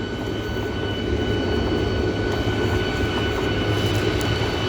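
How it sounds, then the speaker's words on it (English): A combine harvester runs with its unloading auger swung out during bean harvest, giving a loud, steady mechanical roar and drone without a break. "So I push this button, and soon there'll be an auger coming out too."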